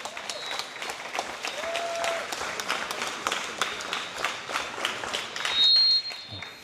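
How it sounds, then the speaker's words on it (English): A crowd at a youth climbing finals applauds the jury president, brisk scattered clapping with a few whistles and cheers, moderately close and continuous over several seconds. "Can we please give her a round of applause?"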